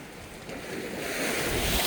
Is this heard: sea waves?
yes